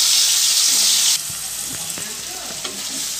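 Paneer pieces frying in hot oil, a steady close sizzle with a bright hissing burst at first that settles into softer bubbling with light scattered stirring clicks.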